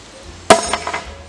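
A heavy-duty hook hammered into reclaimed wood: one sharp, close strike followed by a brief metallic ringing and a couple of lighter knocks against a quiet background.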